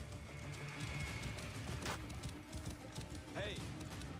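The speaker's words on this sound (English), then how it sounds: "This must be Mered's horse." Horse hooves clip-clop in Assassin's Creed Origins, a steady run of game hoofbeats playing under continuous talk with some background game ambience.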